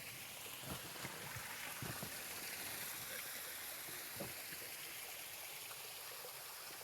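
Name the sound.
mountain creek water flowing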